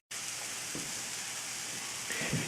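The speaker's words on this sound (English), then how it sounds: "We'll let it simmer some more." A vegan patty mixture with black beans simmers in a pan, giving a steady, close hiss of gentle sizzling that holds at an even level throughout, with a few faint stirring scrapes near the end.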